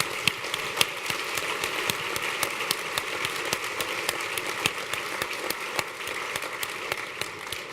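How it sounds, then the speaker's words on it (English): An audience at a conference applauds five fire chiefs, dense steady clapping with distinct sharp individual claps standing out, sustained and even, with no talk. "Can we have a round of applause for the Chiefs?"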